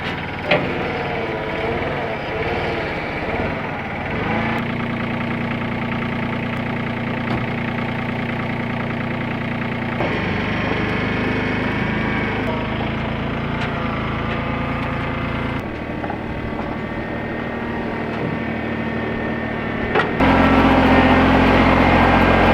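A tractor engine idles steadily with a low, even rumble throughout, and the pitch and load shift a few times before it revs louder at the end.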